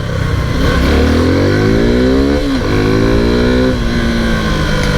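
A Suzuki V-Strom 250 motorcycle engine revs and accelerates, its tone climbing through the gears with a brief dip mid-pull, loud and close throughout.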